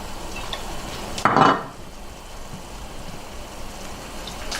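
Oil hitting a hot pan while cooking ground beef and vegetables for homemade spaghetti, giving a brief loud burst of sizzling hiss that fades into a quieter steady background.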